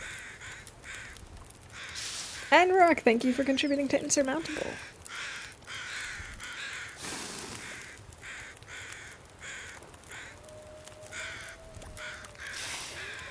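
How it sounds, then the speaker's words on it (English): Crows caw in The Long Dark: a quick cluster of harsh calls near the start, then quieter open ambience as a person talks over much of the scene. "these crows are not that loud"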